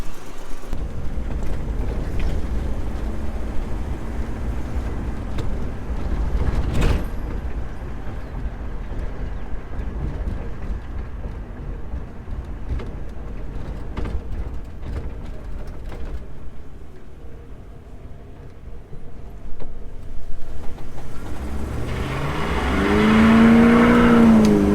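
The Ghetto Glyder being driven, its engine giving a steady low rumble for a long stretch before rising in pitch and revving harder near the end, heard close with no talk.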